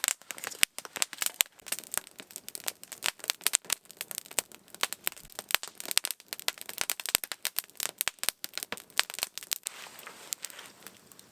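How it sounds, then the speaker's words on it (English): A cedar wood fire burning outdoors, crackling and snapping with frequent sharp irregular pops of varying loudness, close by and with no voices over it. "You know, all the benefits of a cedar fire."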